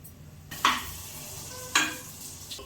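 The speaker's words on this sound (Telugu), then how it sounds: "ఇవి వేగినాయి, అల్లం ముక్కలు, మిరియాలు, జీలకర్ర వేగిపోయినాయి." Ginger pieces, black pepper and cumin seeds sizzling in a hot pan, a steady low frying hiss broken by two sharp clinks of a stirring spoon against the pan.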